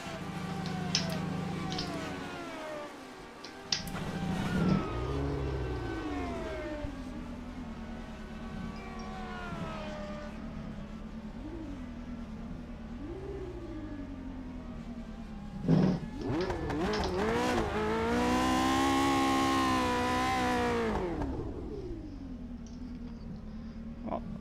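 A Lotus 78 Formula 1 car racing at Bathurst's Mount Panorama in a sim racing game, reportedly with engine damage, its engine rising and falling through gear changes, with repeated revving sweeps and a loud high-revving stretch near the end.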